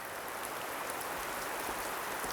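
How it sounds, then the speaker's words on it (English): Pouring rain falls outdoors in a quarry valley park, a dense, steady hiss of drops on surfaces that stays constant and loud throughout. "It's pouring rain."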